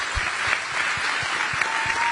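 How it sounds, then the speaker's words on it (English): Sustained, dense applause from a large crowd at a Kamala Harris campaign rally in Pennsylvania, steady and loud throughout with scattered sharper claps rising out of the roar. "let's give them another round of applause"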